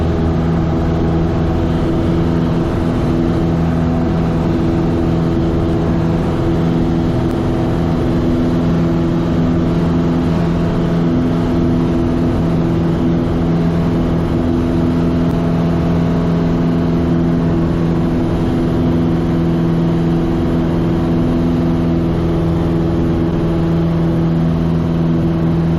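A light aircraft engine during takeoff from Sky Acres and climb-out runs at full power with a loud, steady droning hum and strong tonal harmonics, unbroken from start to finish.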